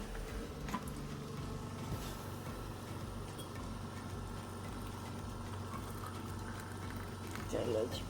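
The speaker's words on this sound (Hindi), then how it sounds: "यहाँ पे पानी गर्म हो चुका है केटल का।" An electric kettle heating water for tea, a steady low rumbling hiss of near-boiling water running throughout at moderate level, with faint background noise.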